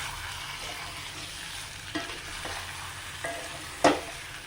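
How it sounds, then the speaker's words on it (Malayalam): Chicken roast fries in a pan with onions, a steady soft sizzle broken by a few scraping stirs and one sharper clack near the end. "വറുത്ത ചിക്കൻ റോസ്റ്റ് കേട്ടോ"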